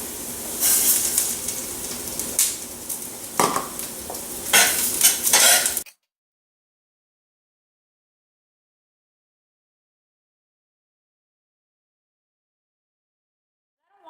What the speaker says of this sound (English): So here I have a cup of quinoa. I'm going to add it.